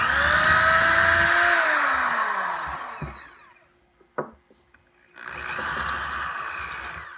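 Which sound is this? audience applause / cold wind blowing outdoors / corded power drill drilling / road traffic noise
corded power drill drilling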